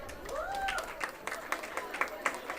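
An audience at a BNCA Pune ceremony claps during a roll call of names, with scattered sharp claps building into a rhythmic beat after a brief whistle-like tone.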